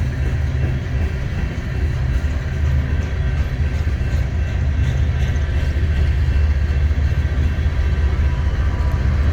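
A Union Pacific freight train rolls past loudly and continuously at Missouri Valley, Iowa, a dense rumbling roar of wheels and cars that holds steady throughout.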